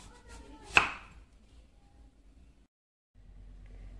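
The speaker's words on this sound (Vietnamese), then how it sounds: "Lúc này bí của mình ráo nước rồi thì bây giờ mình xắt bí nè." A single crisp knife chop through winter squash, cut into rounds, lands close and sharp, then quiet kitchen background follows with no talking.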